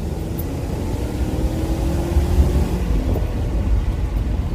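A BMW E39 540i with the M62 V8 pulling uphill in second gear around 3,500 RPM, a steady low engine drone heard from inside the car under wind and road noise.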